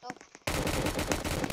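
Rapid automatic gunfire bursts out loudly in a Roblox prison game, a dense continuous rattle after a brief quieter moment.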